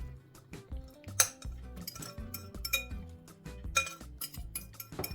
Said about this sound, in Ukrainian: Тепер ми їх перекладаємо у більший посуд